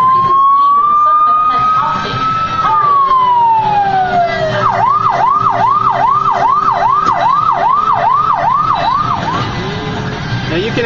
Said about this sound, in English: Now you can activate the siren if you want to by hitting the siren button on the side.